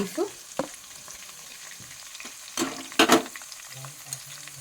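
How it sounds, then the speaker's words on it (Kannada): Green chillies fry in a pan, heard as intermittent close sizzles and stirring scrapes with a louder crackling burst near the end and no voices. "ಗ್ರೀನ್ ಮಿರ್ಚಿ ಇದನ್ನು ಸ್ವಲ್ಪ ಫ್ರೈ ಮಾಡ್ತೀನಿ"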